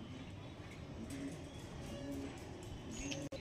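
Black Diamond pigeons coo softly in a loft, low murmuring calls repeating under a constant background hiss, with faint chirps mixed in.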